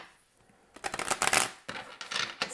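Tarot cards being shuffled and drawn: after a quiet start, a run of fast riffling and slapping bursts, close and fairly loud, then a short pause and a few more card flicks.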